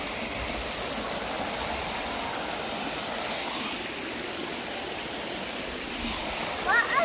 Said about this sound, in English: Is that what made sound? Yeah, it's a waterfall.